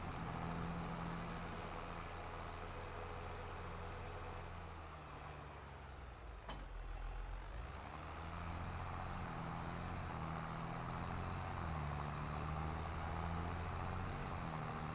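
A tractor engine in the Farming Simulator game runs steadily and close throughout, a continuous low droning rumble with a brief dip midway, with no talking over it.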